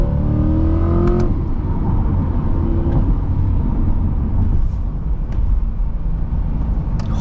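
A Chevrolet C8 Corvette accelerates hard on a late-night drive, its engine droning loud and steady from inside the cabin while the pitch climbs through the gears, with brief shifts along the way.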